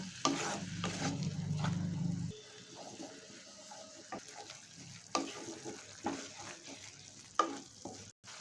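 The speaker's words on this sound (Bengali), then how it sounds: "খুব ভালো করে একটু মিশিয়ে এভাবে নাড়িয়ে চাড়িয়ে এক থেকে দু মিনিট মতো" Pasta ingredients being stirred with salt in a pan: a low sizzling hum for the first two seconds, then scattered scraping and clinking taps of a utensil against the pan, close and moderately quiet, with no talking.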